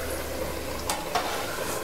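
Water heating in a pot for chicken dum biryani makes a steady, close hiss with faint bubbling and a couple of brief clinks or taps.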